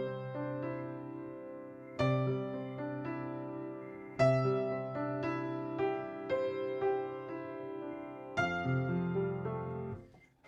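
Piano playing a steady repeating left-hand pattern of low sustained notes, with a single right-hand note struck on each downbeat, close and moderately loud, with no voices.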